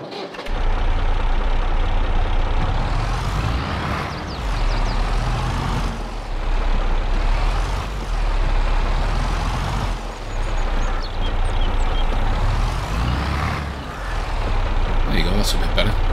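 Heavy truck or tractor engine rumbling steadily nearby as it eases a log trailer closer, with brief dips and surges in revs and people talking over the continuous drone.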